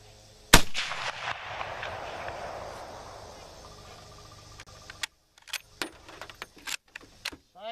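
The bolt of a Finnish M39 rifle is worked: one sharp metallic crack with a ringing decay, then a run of quick close clacks and clicks.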